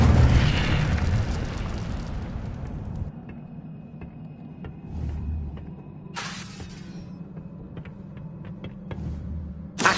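A fiery Incendio spell explosion in Hogwarts Legacy: a loud, rumbling burst that fades into a low roar, followed by later sharp pops and a final thump.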